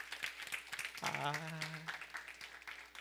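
Children and adults at a church service for young children clap in thanks to God, a soft, brief patter of applause that sits under a voice speaking a short exclamation through the middle.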